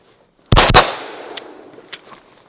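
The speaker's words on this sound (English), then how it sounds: "So I'm going to just throw a couple rounds down range with the Scorpion to get us kind of started." A Scorpion pistol-caliber carbine fires two quick, loud shots in close succession out on a range, followed by a long decaying echo with faint distant cracks.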